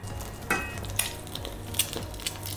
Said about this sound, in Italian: E adesso alziamo bene il fuoco e andiamo a friggerlo.